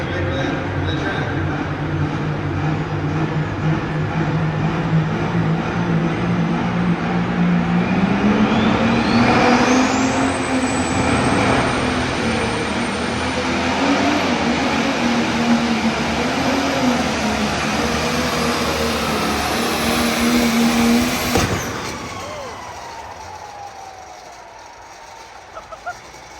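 A pulling tractor on a sand track at a tractor pull, its engine roaring loud and steady, climbing to a higher pitch midway and holding there, then cutting off sharply near the end, with a voice talking over it.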